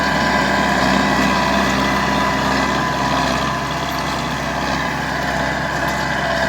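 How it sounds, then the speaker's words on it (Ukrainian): An MTZ tractor engine labours hard while ploughing a field, a loud, steady, close diesel roar with a dense mechanical drone that dips slightly midway and then holds, with no talk over it. "Він бідний на деби стає, а йде. Диви, що робить. І скажіть, що МТЗ це не трактор."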